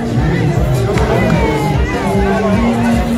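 Large crowd of supporters moving on foot alongside Liberia's President Weah outdoors, a dense continuous hubbub of many voices with scattered shouts and some cheering, steady and loud throughout.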